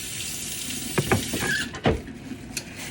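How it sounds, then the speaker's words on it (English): Running tap water rinses a knife in a sink while making homemade pizza, a steady close splashing stream with a few brief clinks and knocks as the blade moves under the flow. "let me rinse my knife a little"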